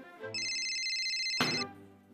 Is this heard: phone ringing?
yes